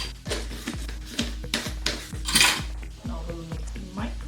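Steam cake batter with baking soda is stirred in a bowl, a utensil clinking and scraping against the dish in a quick, regular rhythm of close, sharp taps.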